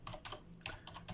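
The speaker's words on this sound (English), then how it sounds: "so I'm typing Cyberpunk" Fingers tap quickly on a computer keyboard, a close, quiet run of irregular key clicks in short bursts over a faint steady hum.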